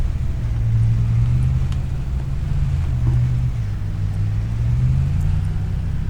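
Car driven in Farming Simulator 25, a steady low engine drone with rising and falling pitch as it moves and slows to park, close and continuous with faint wind-like noise.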